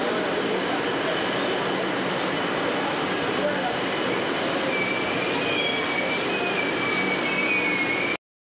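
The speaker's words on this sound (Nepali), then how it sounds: "हाम्रो मेट्रो चाहिँ आयो" An underground Kolkata metro train pulls into the station with a loud, continuous rumble and rushing roar, a thin metallic whine rising over it before the sound cuts off abruptly.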